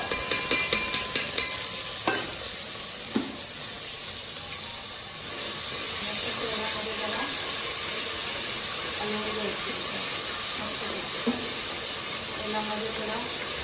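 Ginger garlic paste frying in oil for a homemade mutton biryani: a quick series of metallic spoon clinks against the pan as it is stirred, then a steady, soft sizzle with occasional scrapes.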